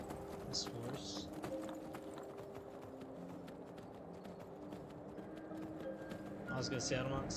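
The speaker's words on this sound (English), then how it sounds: "So I'm gonna take this horse." Horse hooves clip-clop in a steady trotting rhythm in the video game Skyrim, with faint background tones and a few brief higher sounds near the start and end.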